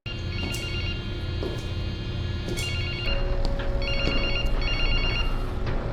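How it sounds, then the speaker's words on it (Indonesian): A telephone rings in a morgue in an Indian film, trilling in repeated bursts over a dense, steady background drone; a second ringing pattern joins midway, fairly loud and close. "ia mendengar suara telepon yang berdering"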